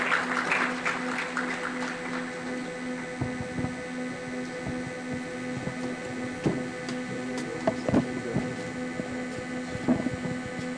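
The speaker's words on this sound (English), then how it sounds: "Can we welcome him with a rousing round of applause?" Sparse applause at a professionals' symposium greets a government minister, scattered individual claps over a steady electrical hum, thinning out as it goes.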